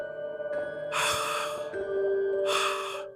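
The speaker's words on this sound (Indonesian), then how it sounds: "suara napas berat itu kembali terdengar. Kali ini jauh lebih keras." Heavy, ragged breaths serve as a sound effect in an Indonesian horror story about a genderuwo in an old house: two loud, close gasping inhalations with a low droning tone underneath.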